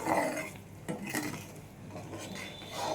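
Raw mango and katla fish curry with roe being stirred in a pan: a spoon scrapes and clinks against the metal in a few uneven strokes, close and moderately loud, with no voices.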